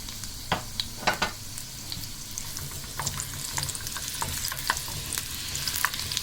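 Garlic, cumin and chillies sizzling in hot oil for a tadka, a steady crackling hiss with sharp pops and occasional stirring scrapes, close and unbroken by talk.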